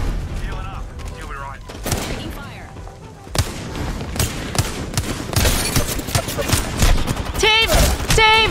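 Gunfire in the battle royale shooter Apex Legends: dense bursts of rapid automatic shots and impacts that grow louder in the second half, with game effects and a voice talking over the fighting.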